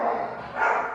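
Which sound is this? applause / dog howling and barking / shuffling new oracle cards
dog howling and barking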